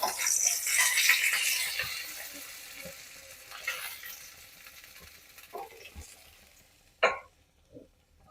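Pabda fish frying one piece at a time in hot oil in a pan: a loud, hissing sizzle at first that fades away, followed by a few soft clinks and scrapes.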